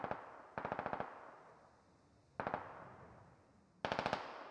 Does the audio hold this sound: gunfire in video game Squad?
yes